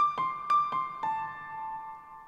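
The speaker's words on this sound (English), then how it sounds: "And then I also used Contact for this little piano tinkle," A little sampled piano tinkle from Kontakt in an atmospheric drum and bass track: a few light, high plucked notes with a soft ringing tail, quiet and sparse, no talking.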